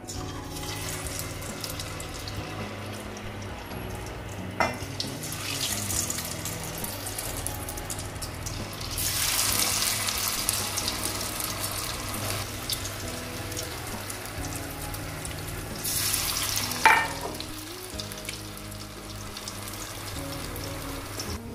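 Potato wedges frying in a pan over medium-low flame, a steady close sizzle with a dense crackling hiss throughout, swelling louder in two stretches, with no talking.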